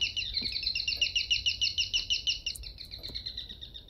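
Inside a house in the game Devotion, a bird gives a quick run of bright, rapid chirps that sweep slightly lower near the end, close and clear against a near-silent background.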